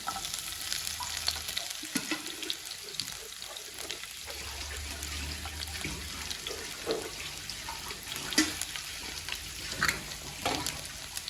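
Shallots and garlic frying in oil after mustard seeds have popped, a soft continuous sizzle with occasional stirring scrapes and clinks, fairly quiet and close.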